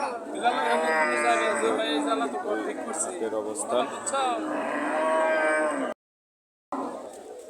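Cattle at a weekly cow market in Kaliakair, Gazipur, moo loudly and repeatedly over steady crowd chatter, with a person speaking briefly and a short gap of silence near the end.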